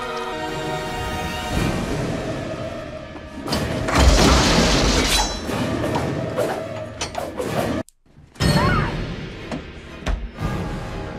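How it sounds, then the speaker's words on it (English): Thuds, bangs and mechanical clatter from a scene in the 1997 film Scream 2, where someone tries to break bulletproof glass. The blows come loud and close, with sharp crashes and rattling, a brief silent gap, then more hits. "You're not gonna be able to break the glass. It's bulletproof glass."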